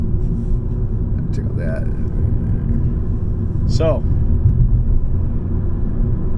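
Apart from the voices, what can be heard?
Tesla car driving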